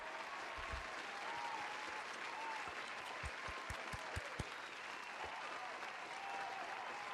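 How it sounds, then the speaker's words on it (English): A round of applause from a crowd at a live show, a steady wash of clapping that runs the whole stretch with a few sharper, louder claps standing out partway through. "A round of applause."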